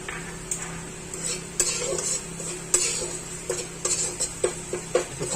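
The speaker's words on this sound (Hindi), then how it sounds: "इसे 5 मिनट तक हम भून लेंगे।" Tomato masala paste with a spoonful of kasuri methi frying in a pan, stirred with a utensil that knocks and scrapes against the metal in irregular close clicks over a steady low sizzle, with no talking.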